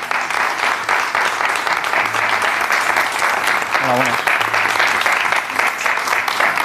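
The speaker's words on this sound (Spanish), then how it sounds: "Un aplauso de nuestro público" Studio audience on a Spanish-language TV show applauds steadily for several seconds as a host speaks briefly over the clapping.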